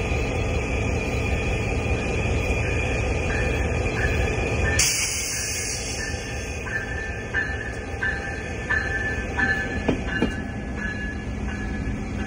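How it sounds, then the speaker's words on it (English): A VIA Rail Siemens Venture passenger train set led by two locomotives passes by, giving a steady rolling rumble of wheels on track with rhythmic clicks at rail joints. The sound is moderately close and continuous, with no voices. "This is one of the brand new Siemens Venture train sets."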